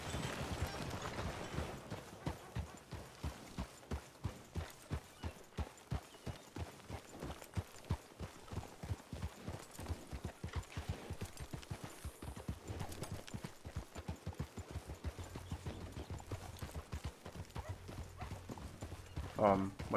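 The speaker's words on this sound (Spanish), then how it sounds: "Bonito caballo de interior." Horse hooves clop steadily in the roleplay video game RedM, a continuous quick rhythm of hoof strikes throughout, under frequent talking voices.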